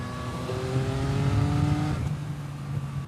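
Motorcycle riding: steady engine drone with a rising tonal whine, under a constant rush of wind noise, loud and continuous throughout.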